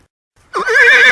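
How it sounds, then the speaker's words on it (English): A horse snorts and then gives a loud, wavering neigh that lasts about half a second and rises out of silence. It sounds close and carries no other noise. "the horse snorted and neighed with pleasure"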